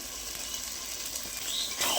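Mutton liver pieces and fried potatoes sizzle steadily in hot spiced oil, a continuous close crackling hiss that grows slightly louder toward the end.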